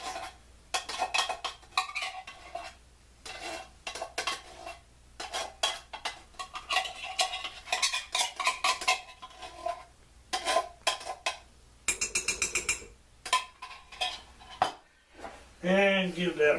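A spoon stirs chili ingredients of tomato soup, corn and beans in a crockpot, with repeated scraping, clinking knocks against the pot and a few pauses, all close by. A voice speaks near the end.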